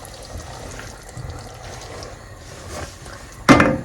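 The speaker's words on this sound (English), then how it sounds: "add some water to rinse our bowl and add it to the stew" Water poured into a bowl to rinse it out, then tipped into a jollof rice stew base; a faint trickle builds to a sudden louder splash at the end, close by, with no voices.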